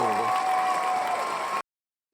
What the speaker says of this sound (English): We need the claps back.